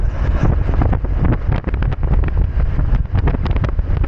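Strong, gusty wind roars and buffets against the microphone during a solo long ride along the road in Southern Leyte, loud and steady with surging blasts throughout, no talking.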